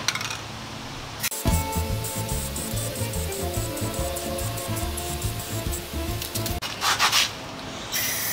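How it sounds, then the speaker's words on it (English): An aerosol paint can being sprayed onto parts of an old two-man saw outdoors, a steady close hiss running several seconds with rubbing, rattling texture underneath, then a shorter burst at the end. "shake the paint can and squirt some paint on these things"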